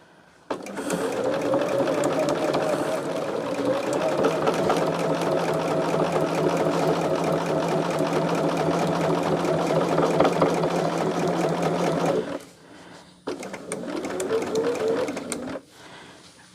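A sewing machine stitches fabric in a long, steady run of close mechanical whirring that lasts about twelve seconds. A short pause follows, then another brief burst of stitching.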